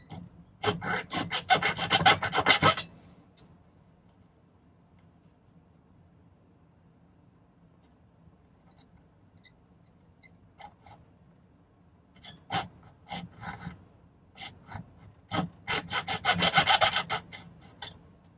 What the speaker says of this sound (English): we're just going to cut right along those lines with a pretty small blade